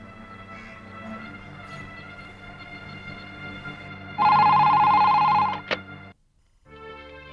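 A telephone rings with a loud electronic trill lasting over a second, following a low background hum, then a short silence.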